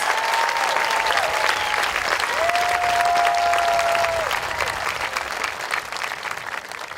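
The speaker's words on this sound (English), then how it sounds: "Can we just give one more round of applause to all of our amazing student speakers?" Applause for the student speakers fills the hall at the High Tech High Chula Vista ceremony, a loud, sustained wash of clapping from a large crowd with occasional whoops, easing slightly toward the end.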